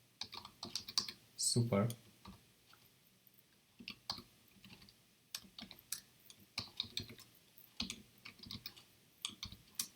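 Java code being typed on a computer keyboard, quiet irregular bursts of key clicks near the mic, with a brief spoken word early on.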